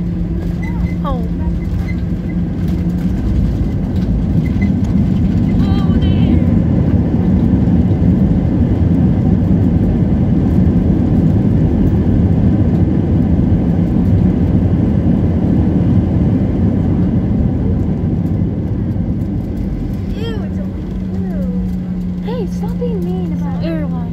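Delta Airlines passenger jet landing after a flight from Detroit, heard from inside the cabin as a loud, steady low engine and rolling rumble that runs throughout, with voices over it.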